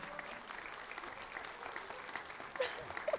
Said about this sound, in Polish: razem z nami poprosimy o brawa